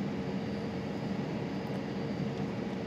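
Steady, even drone of a small Goshawk aircraft's engine in a flight simulator game, a constant broadband hum filling the background with no voices.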